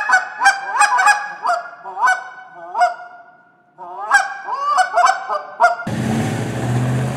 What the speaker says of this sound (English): We're about to hear a live goose.